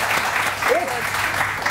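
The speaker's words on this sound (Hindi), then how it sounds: "ताली बजाओ।" A studio audience on a morning TV show claps briefly after a tooth-whitening tip. Short, steady clapping, close and continuous, with a brief voice passing over it.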